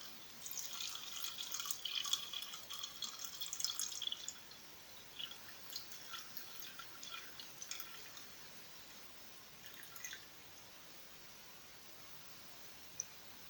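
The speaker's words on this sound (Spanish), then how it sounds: "En este momento le vas a aplicar agua, hasta 2 dedos antes de la orilla." Water poured steadily into a container holding garlic cloves, a faint trickling and dripping with light splashes that is busier at first and then thins out, heard alone with no voices.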